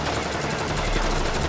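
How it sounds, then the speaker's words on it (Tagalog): Gunfire rings out in an action film scene, a dense, rapid burst of shots that continues without a break for the whole moment. "Makikita naman si Anso na nakikipagpalitan ng putok sa mga kalaban habang pinoprotektahan si Abril."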